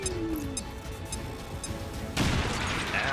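A grenade goes off in the video game XCOM 2: after a quiet stretch with small game sounds, a sudden loud blast erupts and its rumbling, crackling debris continues to the end.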